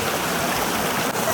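Water at warm springs in Ekiti State, Nigeria, flowing in a steady, close broadband rush with no breaks, like a stream running over rocks.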